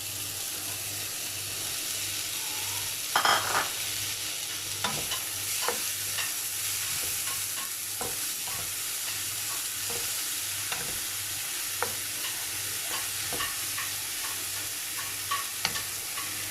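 Chicken sizzles and fries in a pan with boiled tomato and cabbage, a steady hiss under repeated stirring and scraping clicks of a utensil, close and alone with no talk.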